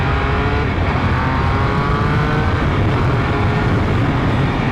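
A three-cylinder motorcycle accelerates hard, its engine a loud, continuous rising roar close to the microphone with a rough, buzzing drone and steady wind noise, no talking over it.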